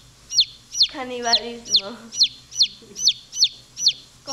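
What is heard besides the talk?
chicken chick clucking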